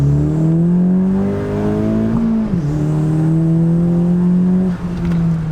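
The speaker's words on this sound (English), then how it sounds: "We'll get a second gear pull now." A 10th-generation Honda Civic Si engine with a turbo inlet pipe revs hard in second gear and climbs steadily in pitch, with a brief dip as it shifts, loud and close throughout.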